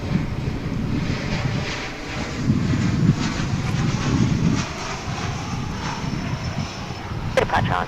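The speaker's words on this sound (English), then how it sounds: "Our next arrival is American Flight 2890, a 737-800, coming in from Colorado Springs" An American Airlines Boeing 737-800 arriving at DFW from Colorado Springs gives a steady, broad engine roar at moderate distance, with wind buffeting the microphone and a few sharp clicks near the end.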